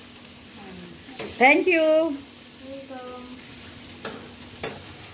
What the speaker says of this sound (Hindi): तो अभी भून रहे हैं मसाला